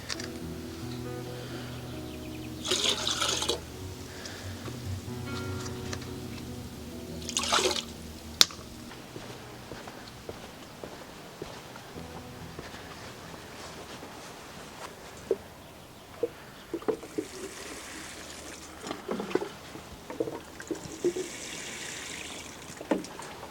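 Plants in a summer garden being watered with fertilizer, giving a soft, steady trickle and drip of water with a few brief louder splashes near the start, no talk.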